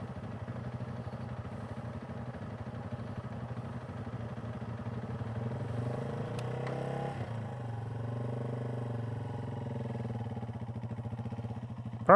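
A Yamaha TW200 dual-sport motorcycle engine pulls away uphill on grass, a steady near mid-pitched thrum that rises with added throttle partway through and holds there, with no talk over it.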